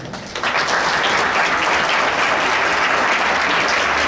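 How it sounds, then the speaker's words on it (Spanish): A university audience breaks into loud, sustained applause to welcome a speaker, the clapping swelling in within the first half-second and holding as a dense, even roar. "le damos un fuerte aplauso"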